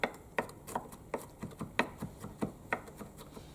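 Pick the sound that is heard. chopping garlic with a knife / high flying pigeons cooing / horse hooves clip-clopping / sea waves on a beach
chopping garlic with a knife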